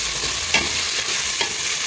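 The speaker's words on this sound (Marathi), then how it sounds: "ओके, मिक्स करूया म्हणटा." Dal and rice khichdi with turmeric powder being stirred in a pot, giving a steady close hiss and sizzle with soft rhythmic scraping strokes and no talking.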